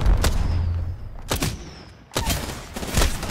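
A frag grenade goes off in a battle royale shooter amid close, punchy gunfire, with several sharp booming cracks spaced about a second apart over a rumbling background.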